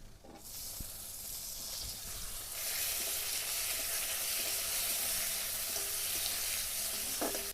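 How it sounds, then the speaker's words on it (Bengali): Chopped tomatoes drop into a pan of frying onions and spiced oil, and the sizzle swells into a loud, dense, hissing fry. It holds steady, with faint clinks of stirring. "এবার টমেটো কাটাগুলো দিয়ে দেবো।"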